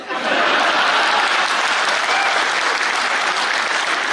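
An audience at a Hindi kavi sammelan poetry recital breaks into loud, dense, sustained applause that fills the whole stretch without pause.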